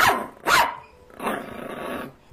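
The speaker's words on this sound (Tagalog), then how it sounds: "makarinig ng munting kahol." A small dog in a narrated story scene gives two short yapping barks followed by a longer, rougher growl, close and fairly loud.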